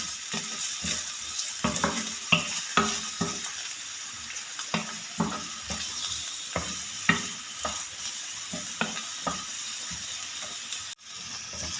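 Medium-sized onions sizzle in oil in a pan over a medium flame, a constant hiss broken by regular scraping stirs every half second or so, close and without talk.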